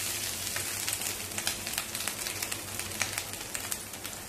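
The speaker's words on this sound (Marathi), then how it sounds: "हे बघा 2-3 मिनिटं छान खोबरं मध्यम गॅसवरती परतवून घेतलेलं आहे." Freshly grated wet coconut sautéing in hot ghee over medium heat for modak filling, a steady close crackling sizzle with dense tiny pops throughout, no voices.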